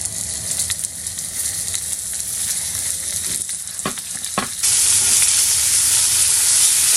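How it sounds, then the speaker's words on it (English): A venison burger sizzles on a hot oiled grill, a steady close frying hiss with crackles that turns louder and brighter partway through. "So let's grill the burger on a hot grill with some oil."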